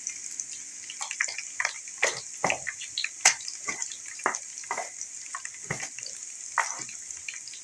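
Cumin fries with garlic ginger paste in a pan, giving bursts of spattering crackle and popping over a bright hiss, with spoon stirring, close and lively throughout.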